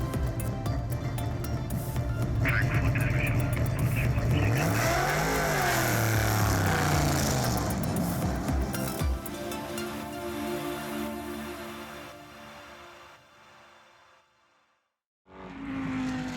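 Race cars at full speed on the Buriram circuit during a four-hour Asian Le Mans Series endurance race, engines roaring loudly with a rising and falling pass-by whine, then fading away to near quiet before another car abruptly bursts back in close by.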